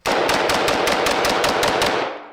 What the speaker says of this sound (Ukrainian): Перейдемо до безвідмовно М16.